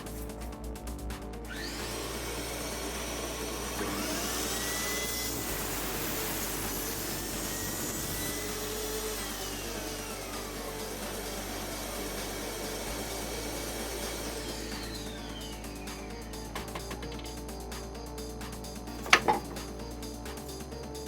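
A DeWalt DWS773 sliding mitre saw makes an angle cut. The motor spins up with a loud whine, cuts for about ten seconds, then winds down, with a brief knock near the end and no talk.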